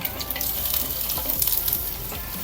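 Onion sizzles in a hot pan for a birthday meal, a dense close frying hiss with faint stirring scrapes and scattered crackles throughout, no one speaking.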